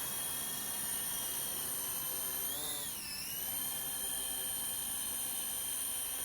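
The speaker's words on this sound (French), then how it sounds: "on va déjà faire décoller notre drone" A Syma X25 Pro GPS drone lifts off with a steady, high-pitched whine of spinning rotors that bends in pitch midway as the motors shift speed, continuous and fairly close.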